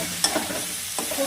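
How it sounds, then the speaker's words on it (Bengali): Lightly fried vegetables tossed into spice paste in a pan for a vegetable dal, giving a soft continuous sizzle with a few scraping stir strokes, close and alone. "এখন হালকা ভাজা সবজিটা মশলার মধ্যে দিয়ে দিলাম। মশলাটা আরেকটু ভালো করে কষিয়ে নেব"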